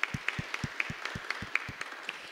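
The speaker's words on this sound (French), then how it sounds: "Je voudrais l'applaudir aussi. Applaudir tout le monde." Applause at the closing remarks of a French-language official event, heard as slow, evenly spaced individual claps at moderate distance, fairly faint, with no talking over them.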